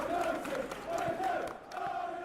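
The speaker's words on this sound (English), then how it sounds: "Well, the crowd clearly like what they just saw" A football stadium crowd roars and cheers in a sustained, loud wave during a Manchester United versus Aston Villa match, with a commentator's voice faintly over it.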